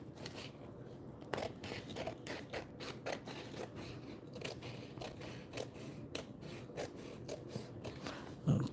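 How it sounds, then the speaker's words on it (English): Scissors snip repeatedly through several layered pieces of blue paper for a junk journal, a close series of crisp cuts and rustles at an uneven rhythm, with no voice. "Cut all these off at once."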